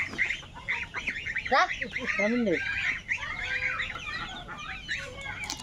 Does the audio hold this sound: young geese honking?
yes